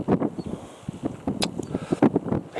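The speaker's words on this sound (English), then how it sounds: "It's windy too." Cold wind gusting outdoors beside a truck, buffeting in uneven bursts and rumbles close up, with no voices.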